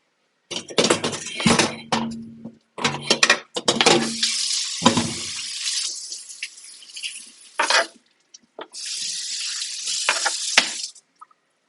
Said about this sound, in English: nice little quick little rinse there